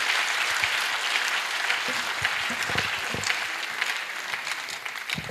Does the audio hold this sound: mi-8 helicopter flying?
no